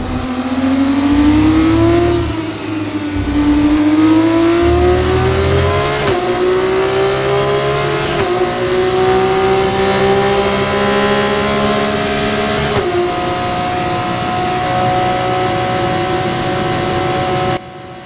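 Formula 1 cars race in the game F1 24 down the main straight toward the Variante Tamburello braking zone, a loud high-pitched engine whine climbing through gear changes, with another car running alongside and the roar holding steady, then easing at the end.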